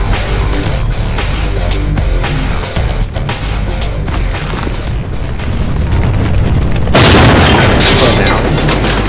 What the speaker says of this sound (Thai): ใกล้ระเบิดแล้วนะครับ